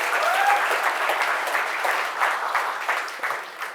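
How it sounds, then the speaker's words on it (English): A large audience at the GDG Ahmedabad DevFest 2023 keynote bursts into loud, dense applause that rolls on steadily and slowly eases toward the end, with a brief whistle near the start. "So huge round of applause for every one of you."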